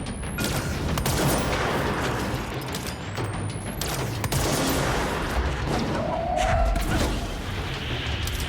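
Automatic gunfire in the video game Control, dense bursts of shots rattling steadily throughout over a noisy, busy combat soundscape, with occasional heavier booms.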